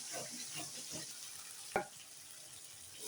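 A chili and turmeric paste for beef bhuna fries quietly in a pan, a soft steady sizzle broken by one sharp clink of a utensil partway through.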